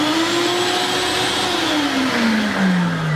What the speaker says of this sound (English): I had to show you the vacuum feature.